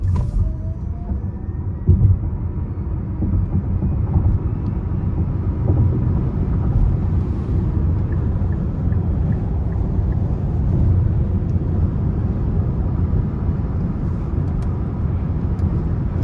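A 2023 Nissan Ariya Engage electric car in sport mode accelerating hard on an interstate, heard from inside as steady road and wind rumble with a faint rising motor whine.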